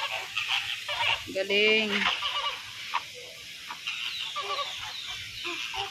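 A flock of noisy fowl at a farm in Cartagena, Colombia, squabbles over fallen corn, with honking and clucking calls rising above someone talking nearby.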